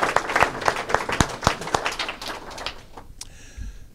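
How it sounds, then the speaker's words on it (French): Applause for musicians at a memorial tribute, a sparse scattering of separate hand claps that thins out and fades toward the end, with a faint bird-like call at the close. "On peut-tu les applaudir?"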